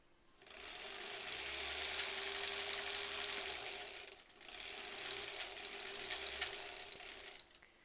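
A sewing machine stitches a fabric face mask in two sustained runs with a short pause between them, a close, steady rapid whir and mechanical rattle.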